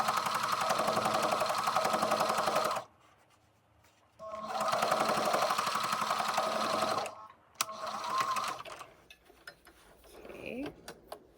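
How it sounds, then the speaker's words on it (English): A sewing machine stitches a bag strap down along the seam line in two sustained bursts of fast, even mechanical whirring, separated by a short pause and followed by lighter clicks and handling noises. "I'm just sewing the strap all the way down, seam line."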